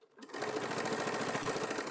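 A sewing machine runs steadily, stitching fabric at a fast even rate after a brief start, close and clear with no talk.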